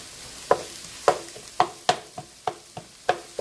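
Ground beef, cabbage and onion frying in a pan for Runza egg rolls, with a steady soft sizzle broken by about ten sharp, regular scraping stirs of a utensil against the pan, close and without talk.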